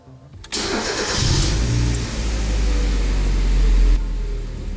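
A car engine cranks briefly, catches and settles into a loud, steady idle close by, the rumble holding evenly before easing slightly near the end.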